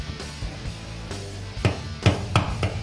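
Light taps of a hammer on a metal punch against a car body panel, working down a high spot. Several sharp, close strikes land after a quiet stretch, the last three about a third of a second apart.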